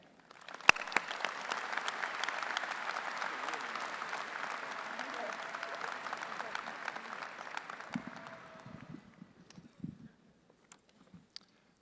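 An audience at a 2019 commencement ceremony breaks into loud, sustained applause welcoming the speaker, steady for about eight seconds before thinning into scattered claps and fading out.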